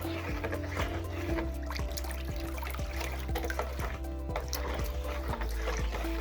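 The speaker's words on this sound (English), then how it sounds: "make sure you stir your milk with a plastic spoon" Milk stirred with a plastic spoon while making homemade yogurt: rhythmic, close liquid swishes and soft spoon strokes repeating about twice a second over a steady low hum.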